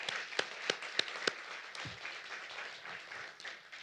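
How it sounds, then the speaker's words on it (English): Faint applause from a poetry reading audience at the Smith College Poetry Center, a scattering of sharp claps standing out at the start before settling into a soft steady patter. "Can we get a round of applause for our interns?"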